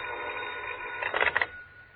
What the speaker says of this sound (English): the phone began jumping around on the hook